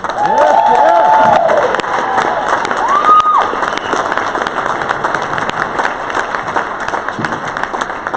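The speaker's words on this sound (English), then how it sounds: "big round of applause to Jeff Sylvester" An audience at a company summit claps and cheers, with whoops rising over steady applause at first, then settling into continued clapping for several seconds.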